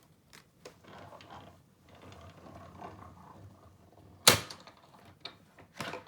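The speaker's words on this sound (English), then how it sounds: "So I'm going to run this through my emboss machine over here onto the side." Handheld embossing machine cranked to feed cardstock through an embossing folder for partial embossing, giving quiet mechanical grinding and ratcheting with a few sharper clicks and clunks near the end, close by with no talk.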